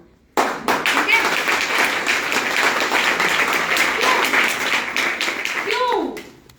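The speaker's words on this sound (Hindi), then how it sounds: "जिनके ताली बजा बजा कर हाथ हो गए लाल" A large audience at a meeting bursts into loud, dense clapping that starts abruptly and continues steadily for several seconds, with a voice speaking over it near the end.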